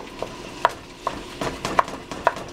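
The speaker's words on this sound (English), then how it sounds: "you're just going to keep on stirring until the ground beef breaks down" Ground beef being stirred and broken apart in a pan for homemade spicy pasta: a quiet background sizzle with four or five sharp scrapes and clicks of the utensil against the pan, close and fairly faint.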